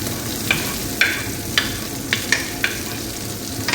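Onions sizzle steadily in hot oil in a pan. A spoon scrapes and stirs through them in sharp, regular strokes about every half second, and no one speaks.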